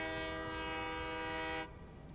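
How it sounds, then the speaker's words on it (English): A sustained tonal horn-like drone from a train passing in Satisfactory, fairly loud and steady for about a second and a half before cutting off, leaving a low rumble. "Also, train."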